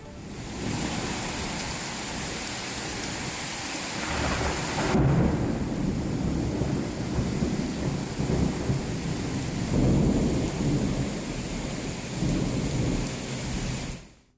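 Heavy rain pours down in Hyderabad as a dense, continuous roar, with deep rolling thunder rumbling through it over about fourteen seconds before fading out.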